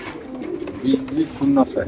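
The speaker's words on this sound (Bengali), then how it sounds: "এখানে আছে এক জোড়া কবুতর" Racing pigeons coo softly in short low repeated calls, close by, while people talk over them at a bird sale.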